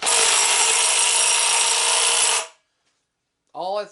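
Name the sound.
impact driver tightening instead of spinning a motor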